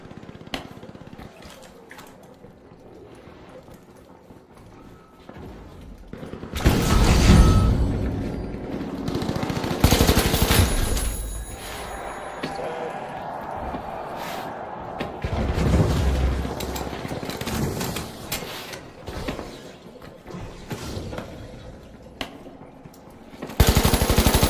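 Gun firing in the game The Finals, bursts of rapid loud gunfire in several clusters separated by quieter stretches of mechanical noise, close and prominent, with no talk.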